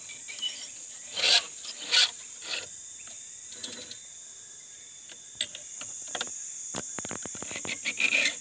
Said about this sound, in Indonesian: Ini gergaji mesin, rantainya sudah tumpul, jadi mau diasah dulu.